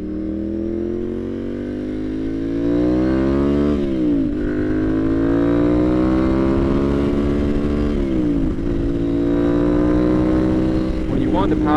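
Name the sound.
Ducati Monster 696 motorcycle loud exhaust while riding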